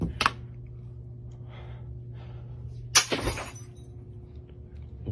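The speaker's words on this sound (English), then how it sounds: "is there a reason you're breaking glass?" Glass breaks in two sharp crashes, a quick one at the start and a louder shatter a few seconds later with a scattering tail of fragments, over a steady low hum in a quiet room.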